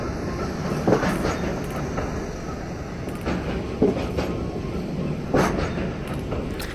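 Train rolling along its track in the game Into The Radius, a steady low rumble with repeated clickety-clack beats from the wheels every second or so, close and continuous, with no voices over it.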